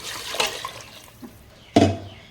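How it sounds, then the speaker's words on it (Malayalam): Water being poured into a cooking pot: a brief splash, a quiet stretch, then a louder, sudden gush of liquid. "പിന്നെ അതിലേക്ക് ആ എടുത്ത് വെച്ചിരിക്കുന്ന വെള്ളം ഒന്ന് ഒഴിച്ച് കൊടുക്കുവാണേ"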